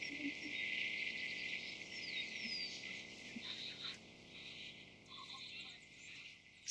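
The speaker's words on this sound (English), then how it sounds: "So many birds, I love it." Birds in the open air at a nature reserve among rolling hills, with faint chirps and calls scattered over a steady high insect-like drone, distant and soft.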